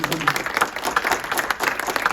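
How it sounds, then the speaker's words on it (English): Audience applause at an Ithaca College alumni career panel, a steady patter of many hands clapping, moderately loud and continuous in a hall. "So, round of applause for that question."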